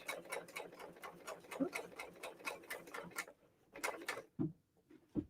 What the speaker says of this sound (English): I can serge right along the edge